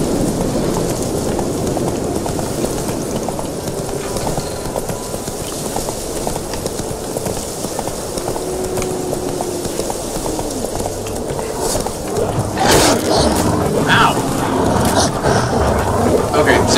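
Hooves of Roach, the horse in The Witcher 3, clip-clop at a steady rapid gallop throughout, close and prominent, with a voice talking over the rhythm at times.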